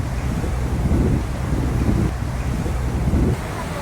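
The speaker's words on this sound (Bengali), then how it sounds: "এই হচ্ছে প্যাতং বিচ, সুন্দর সাজানো গোছানো জায়গা।" Wind gusts and surf on Patong beach in Phuket, Thailand: a steady, full roar with slow swells in loudness and no voices.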